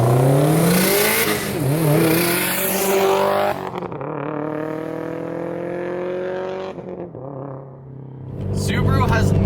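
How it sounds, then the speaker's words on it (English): Subaru STI with a boxer four-cylinder engine and an external wastegate, revving loud and close with a rough, throaty note that drops off and builds again, a spoken voice running over parts of it. "an external wastegate paired with a Boxster 4-cylinder"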